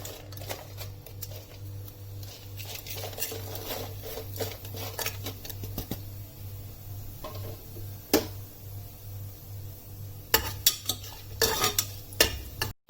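Biryani spices stirred into hot oil and ghee in a pressure cooker, metal spoon clinks and scrapes over a low sizzle and a steady hum, with sharper knocks near the end.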